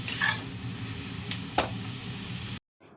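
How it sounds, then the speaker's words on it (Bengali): Boiled potatoes and soybean being stir-fried in a pan give a close sizzle with a couple of sharp scrapes or clicks of the spatula, then a sudden cut to near silence at the end. "এই যে আলুটাও দিয়ে দিলাম সেদ্ধ করা আলু"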